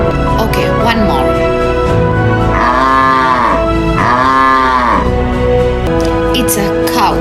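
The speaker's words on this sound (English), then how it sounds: "It's a cow." A cow moos twice, loud and close, each moo a long drawn-out call, over a steady tonal background.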